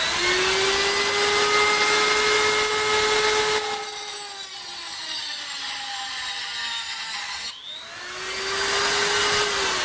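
A HILDA 220 V 400 W electric rotary grinder running at maximum speed, a loud steady high-pitched whine that dips in pitch partway through and then climbs back up.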